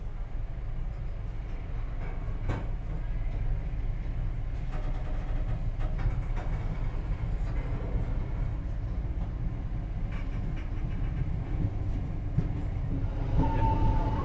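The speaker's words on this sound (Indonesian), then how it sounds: "Sekarang ini kereta api Ranggajati sudah melintas langsung di stasiun Cirebon Prujakan" Continuous low rumble and rolling rail noise of the Ranggajati business-class passenger train running along the track near Cirebon Prujakan, heard steadily from on board with faint clicks and a brief higher tone near the end.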